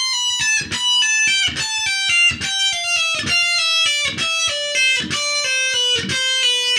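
Heavy metal electric guitar lick played slowly, a chain of distinct picked notes stepping downward in pitch, each clearly separated with a bright, harmonically rich tone, played alone at close range without talk.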